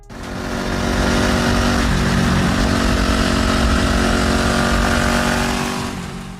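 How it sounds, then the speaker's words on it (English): A Suzuki SV650 motorcycle with a 645cc liquid-cooled V-twin engine runs loud and close, its steady engine note swelling in and then holding strong before easing off at the end. "Powered by a 645cc liquid-cooled V-twin engine, it's smooth, eager, and packs plenty of punch."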